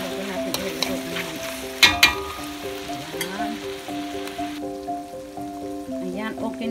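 Macaroni fries and sizzles in a pan while being stirred, a steady crackling sizzle with scraping stir sounds, heard close up against a musical background.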